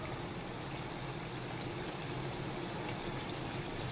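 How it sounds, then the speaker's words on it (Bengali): Chhana jilipi, spiral cottage-cheese sweets, fry in oil over a low-medium flame with a constant, even sizzle and bubbling hiss, close and unbroken, with no voices. "ধৈর্য ধরে মিষ্টিগুলোকে কিন্তু লো টু মিডিয়াম ফ্লেমে ভেজে নিতে হবে"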